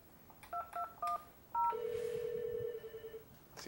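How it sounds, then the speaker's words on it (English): Keypad tones on an Alcatel-Lucent 8028s desk phone on an OXO Connect system: four short separate beeps as an extension is dialled, then a longer steady tone, clear and close in a quiet room. "To make an internal call, I can simply dial the extension and away I go."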